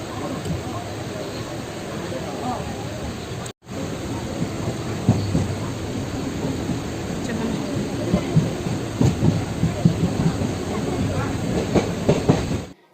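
Passenger train on the journey to Thiruvananthapuram (Trivandrum) rumbling steadily along the rails, with a loud continuous roar, rhythmic clatter and occasional squeals, a brief drop-out near the start, and voices talking underneath.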